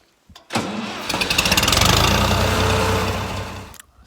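A tractor engine, just repaired with a new fuel filter and spark plug, cranks briefly and then catches, running loud and steady close by with a rough, rapid pulsing rhythm before cutting off at the end.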